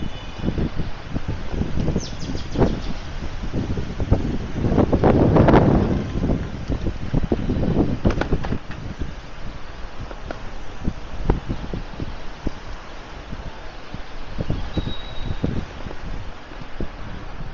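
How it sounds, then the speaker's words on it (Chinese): Strong wind buffets the microphone of a cyclist riding out of a village, a continuous rough rumble with gusty surges and irregular thumps, no voices. "今天风很大啊"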